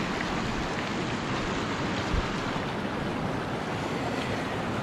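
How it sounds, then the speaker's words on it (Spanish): A small river flowing along the trail to the Condorpaccha waterfall in Huancavelica, Peru, gives a steady, dense rush of running water, close and continuous throughout with no talking. "Vamos a cruzar por este pequeño río."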